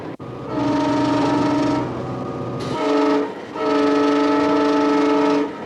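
A train pulls into a station, its loud steady rumble carrying long sustained horn-like tones in two stretches split by a short break, with no talking.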